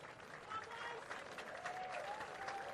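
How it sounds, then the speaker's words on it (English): Crowd at a 2017 Oceania Rugby U20s Championship match between Australia and New Zealand cheering and applauding, a brief swell of distant noise with a commentator talking over it. "And the crowd goes up."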